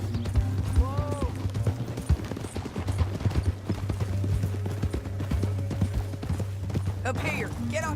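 Horse hooves clop and gallop in rapid, uneven beats throughout a Red Dead Redemption 2 gameplay scene, close and prominent, mixed with faint game music, a brief whinny and occasional other effects.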